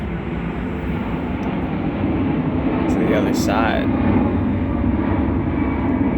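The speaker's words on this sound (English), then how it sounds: "Gotta hear that plane." An airplane roars overhead on a cold night, its engine rumble swelling loud and steady over several seconds while someone speaks briefly beneath it.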